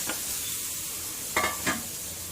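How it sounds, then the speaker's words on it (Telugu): Grated raw mango stirred into a rice mixture in a pan: a soft sizzle under two short scraping strokes of a spoon near the end, close and alone. "ఇలా బాగా కలుపుకోవాలి."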